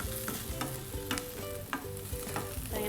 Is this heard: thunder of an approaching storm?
no